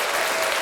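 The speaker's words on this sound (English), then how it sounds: "Get them a round of applause." A brief burst of dense, steady audience applause, close and uniform, with no pauses.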